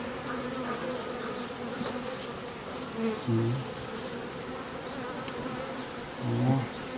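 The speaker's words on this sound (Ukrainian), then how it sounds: "Бджоли багато." Honey bees buzz in a dense, continuous drone, close and steady, with a couple of louder swells as bees pass near.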